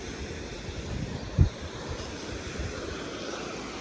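Ocean waves wash up onto a beach around the listener's feet, a low rushing surf mixed with wind buffeting the microphone, with one soft thump partway through.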